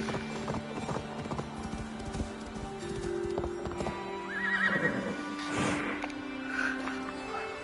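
A horse whinnies over steady clip-clopping hooves in Assassin's Creed Valhalla on PS5, with synthetic background tones and a busy, layered soundscape.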